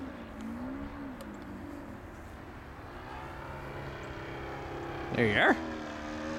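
The engine of a 35% scale RC airplane running rich and gurgly, heard as a steady distant drone, with a brief louder surge near the end; a person speaks briefly over it.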